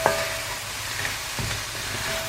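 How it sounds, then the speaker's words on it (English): Tuna stir fry being stirred in a dry, oil-free Berghoff pan, with a soft steady sizzle and faint scraping of the utensil against the pan, one brief clatter at the start. "I'm just going to give that a quick mix"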